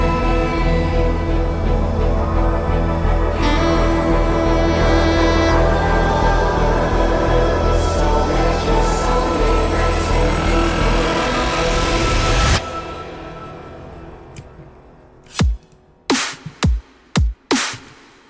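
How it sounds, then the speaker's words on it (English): A dense electronic music build-up plays loud and full before a bass drop, then cuts out sharply, leaving a few isolated punchy hits with silence between them. "the part before the bass drop sounds like this"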